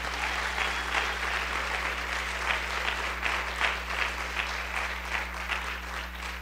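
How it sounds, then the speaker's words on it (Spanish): Church congregation applauding steadily at a Spanish-language service in Chicago, a dense wash of clapping held at moderate level over a constant low electrical hum, with no voices over it. "¿Cuántos aplauden en nombre del Señor?"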